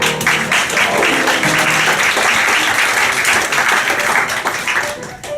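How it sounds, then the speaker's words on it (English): Live audience applause at a comedy musical show at Stage 72 on Broadway, a steady mass of clapping that holds throughout and fades slightly at the end. "That smattering of applause was exactly the amount of respect it deserved"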